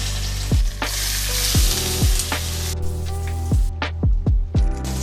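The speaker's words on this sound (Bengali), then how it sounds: "পনিরগুলো ভেজে নেব।" Paneer pieces frying in oil, a loud close crackling sizzle that runs throughout, with several sharp knocks and taps from a utensil against the pan and no talking.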